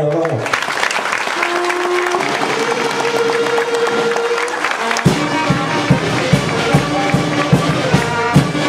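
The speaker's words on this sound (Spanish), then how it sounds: "Un aplauso para estos nuevos mayordomos." Audience applauding new festival stewards at a Three Kings stewardship ceremony in Nopala, a dense, steady wash of clapping with a crowd murmur and brief tonal music under it, then sharper claps and cheers toward the end.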